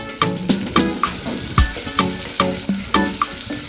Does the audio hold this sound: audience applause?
no